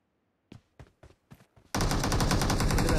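Gunfire in a BGMI battle royale fight: a few separate single shots at first, then a loud, unbroken automatic burst that runs to the end.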